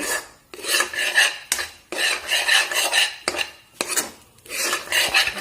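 A milk powder and milk mixture being stirred in a pan, loud rhythmic scraping and rasping strokes of a spoon against the metal, repeated in bursts with brief pauses between.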